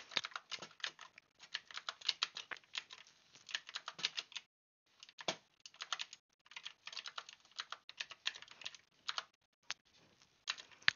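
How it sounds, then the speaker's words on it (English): Very fast mouse clicking at about 20 clicks per second during a Minecraft bridge duel, heard as dense bursts of sharp clicks in rapid runs with short pauses between them, close and loud with no speech. "I'm freaking clicking 20 CPS on the wall"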